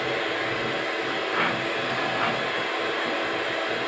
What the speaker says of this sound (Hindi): अब मैं इसे ब्लेंड करने वाली हूँ for 1 minute in a high speed